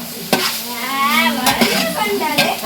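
Food fries in a hot pan in a home kitchen while being stirred: a loud, close crackling sizzle broken by sharp clacks of the spoon against the pan, with a voice talking over it.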